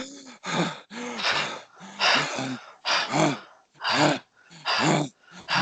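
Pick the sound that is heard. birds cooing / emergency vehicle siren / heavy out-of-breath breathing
heavy out-of-breath breathing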